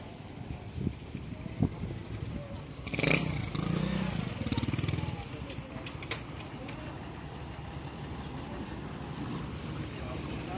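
A Mazda 3500 engine runs with a low, steady rumble and rough mechanical noise, swelling louder for a couple of seconds near the start before settling back to an even drone.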